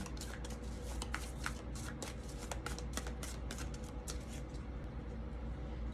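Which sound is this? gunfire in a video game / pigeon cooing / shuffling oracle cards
shuffling oracle cards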